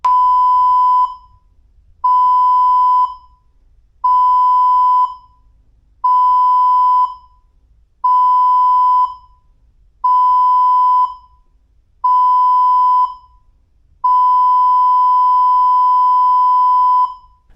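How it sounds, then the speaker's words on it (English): An emergency alarm aboard the Norwegian Getaway cruise ship sounds eight loud, steady electronic beeps at a regular two-second rhythm, with the final beep held longer, over a low background hum. "That was the emergency alarm."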